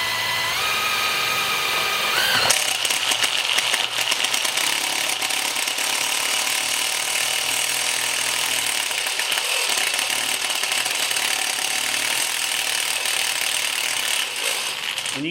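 A power drill with an oiled bit grinds into metal in a continuous loud, rattling whine, with the pitch wavering slightly as it bites through.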